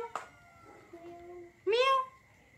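A cat gives a couple of short meows close by, the last one longer and louder, with faint voices around it.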